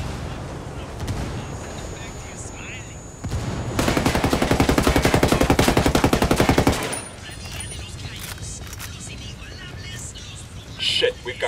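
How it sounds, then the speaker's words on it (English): A long rapid burst of automatic gunfire rattles through a firefight at a parking area in Ghost Recon Wildlands, loud and close, with scattered shots and voices around it. "Taking fire from the parking area."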